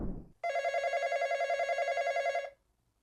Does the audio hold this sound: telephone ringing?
yes